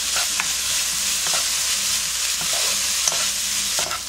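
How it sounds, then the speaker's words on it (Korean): Steady sizzling from a hot pan with periodic scraping stirs, mushrooms with garlic being tossed and stir-fried up close. "미타리 버섯이 이제 볶아졌어요."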